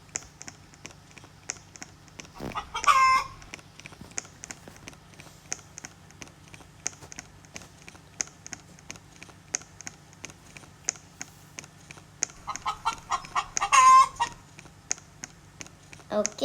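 A chicken character in the Roblox game Brookhaven lets out two bursts of clucking and crowing, one early and one near the end, over a steady game background with faint clicking.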